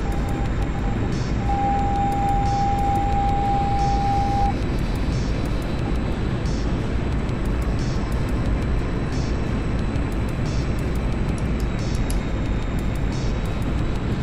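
Steady roaring drone of a Cold War jet aircraft engine in the DCS flight simulator, constant and loud throughout, with faint periodic ticks and a brief tone early on.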